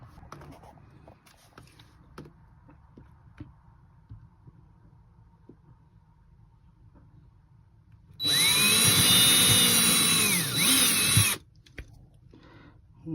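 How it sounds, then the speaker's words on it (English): A power drill pre-drills pilot holes while mounting a single-pedestal dinette table in an RV, one loud sustained whine of about three seconds with a brief dip, following quiet handling noise. "I can just set it up and do the pre-drills through the holes"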